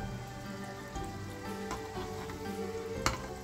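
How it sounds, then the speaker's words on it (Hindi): Thekua frying in hot oil on low heat, a steady close sizzle and bubbling throughout with a few faint stirring clinks; no talk. "अभी धीरे धीरे जब आप तलेंगे तो आपका ये ऑयल का स्टैंडर्ड खुद सेट हो जाएगा।"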